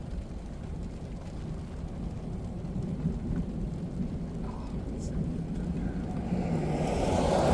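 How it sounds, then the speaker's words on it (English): Light rain falls during a desert thunderstorm in the Mojave, with low, distant thunder rumbling faintly beneath a steady wash of rain that swells louder toward the end. "Hear thunder in the distance."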